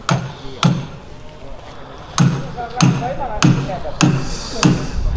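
Wooden boards are hammered in a woodworking shop: seven or so sharp, loud, close-up blows in an uneven rhythm, some spaced apart and others in quick succession.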